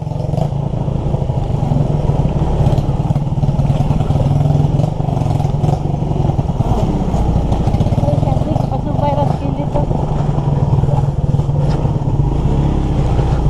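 A motorcycle engine drones steadily at close range while riding a mountain road, loud and unbroken, with people talking over the noise.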